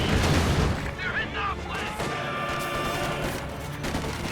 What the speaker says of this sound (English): the mortar emplacement is up now, so I'll start rapidly firing to help support